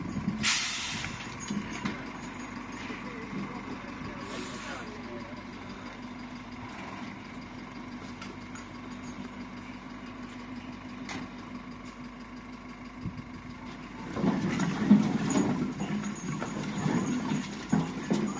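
A ZIL truck's engine idles steadily through a firewood delivery in a yard, low and continuous, growing louder and rougher toward the end with a burst of clatter, no voices.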